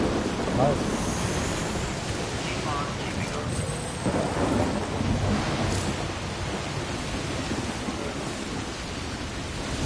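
A thunderstorm with steady heavy rain in the Death Stranding video game, a dense continuous wash of rainfall with low rumbling swells of thunder, loud and unbroken throughout, with a voice speaking over it.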